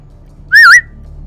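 One short, loud, sharp whistle blown as a signal, a single bright tone bending slightly in pitch for about a quarter second, alone against a quiet low background.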